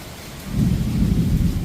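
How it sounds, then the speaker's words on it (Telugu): Thunder rumbles low and heavy during a rainstorm, swelling after a short quiet start and rolling on steadily under a wash of rain, loud and close. "ఉరుముతుంది చూడండి ఉరుముతుంది ఎట్లా ఉరుముతుందో"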